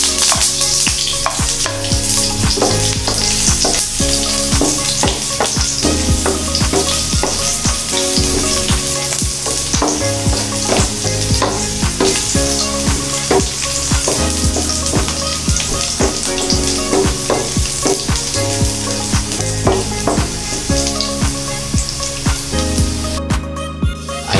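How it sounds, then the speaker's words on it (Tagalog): Garlic frying in hot cooking oil for a Filipino sautéed vegetable dish: a dense, continuous sizzle with crackling pops, loud and steady throughout. "mainit na po ang ating cooking oil. Ilalagay na po natin ang garlic."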